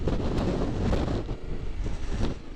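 Wind gusting against the microphone on an exposed hilltop during an off-road drive, a steady low rumbling buffet with a few brief gusty swells, close and fairly loud with no talking.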